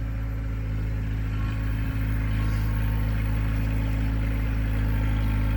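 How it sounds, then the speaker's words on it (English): A loud, steady mechanical rumble and grinding drone from a small tractor-size ABI manure spreader breaking up big, rock-hard chunks of dried manure, running continuously at close range. "it's super loud because it's trying to break up these big rock chunks of dried poo"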